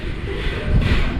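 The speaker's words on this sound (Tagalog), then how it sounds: "Yun o, mahangin." Wind blows at an outdoor building site where roof trusses are going up, a loud, continuous low rumble buffeting the microphone with no talking.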